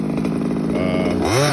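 A scooter engine with a new piston-port top end, running rich on its first run, buzzes loudly and steadily up close, then climbs in pitch as it revs near the end.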